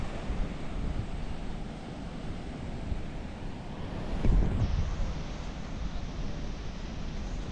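Steady roar of ocean surf and rushing water with wind buffeting the microphone, a slightly louder surge midway, no voices.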